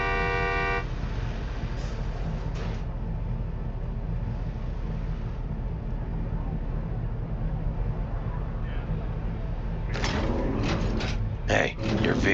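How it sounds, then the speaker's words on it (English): Car horn honks in the Cyberpunk 2077 video game: a short tone at the start, then a cluster of quick honks near the end over a constant loud engine-like hum. "Give a few honks and I'll stroll up."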